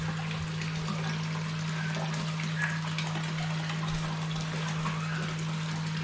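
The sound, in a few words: fish splashing in river water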